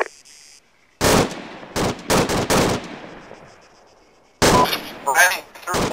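Automatic gunfire in the Arma 3 military shooter, loud close bursts fired in several quick volleys with reverberant tails, then another heavy burst after a pause, with voices faintly present.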